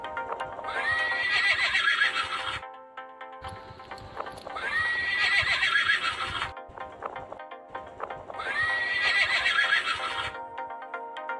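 A toy horse sounds three loud, clearly separated bursts of neighing and whinnying, each backed by rhythmic clip-clopping hooves and a bright electronic tone, with short gaps between them and no talking.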